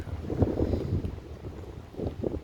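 Wind buffets the microphone on an exposed island spot where gusts come from all sides, a low rumbling roar that swells in bursts and stays close and loud throughout.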